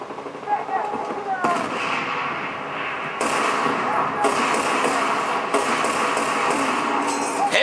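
Gunfire from the video game Battlefield 1943, with dense, sustained bursts of shooting and explosive blasts filling the clip at a loud, steady level.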